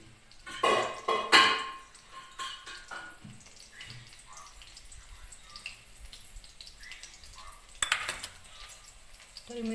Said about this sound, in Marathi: तर मिरच्या तळतायत.